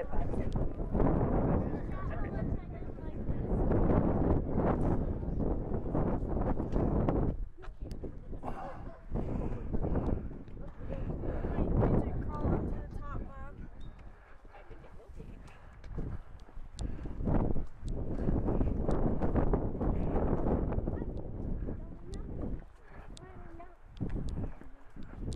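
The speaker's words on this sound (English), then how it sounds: "You can probably hear the wind." Wind gusting across a mountain trail at Clingmans Dome in the Smoky Mountains, a steady roaring buffet that surges and eases while someone speaks intermittently over it.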